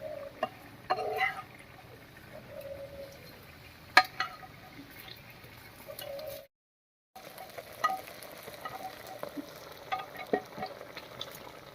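Fried lentil fritters (bori) go into a simmering pumpkin and pumpkin-shoot curry, giving a soft sizzle with scattered stirring scrapes and a few sharper clinks, fairly close, with a brief dropout midway and no talking.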